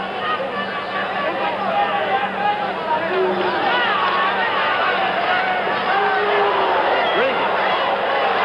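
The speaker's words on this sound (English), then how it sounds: "Rodriguez talking to Viruet, and the crowd booing" A large crowd at a 1977 boxing match boos and murmurs in a continuous, loud, dense wash of voices with scattered shouts rising above it.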